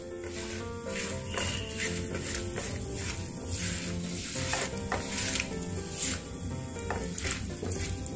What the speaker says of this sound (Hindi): दालों को और काजू को जलाना नहीं है, थोड़ा सा कलर आ जाए तब तक हम भूनेंगे